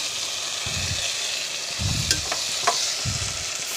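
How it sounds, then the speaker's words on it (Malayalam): Crushed ginger, garlic and curry leaves being stirred in a hot frying pan for biryani, with a steady sizzle throughout and three soft bursts of scraping and stirring, plus a couple of sharp light clinks. "നന്നായിട്ട് നല്ല മിക്സ് ചെയ്ത് കൊടുക്കാം."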